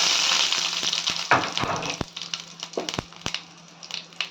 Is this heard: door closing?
no